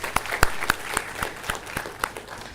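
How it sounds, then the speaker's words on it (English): At an engineering college graduation ceremony, the audience claps in a thin, scattered way, with a few distinct, fairly close hand claps standing out over a soft background of applause and no talking. "A big round of applause to all the parents that are sitting here today"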